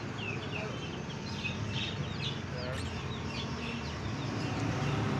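Chickens cluck softly amid a busy, noisy background, with scattered short calls over steady low rumble.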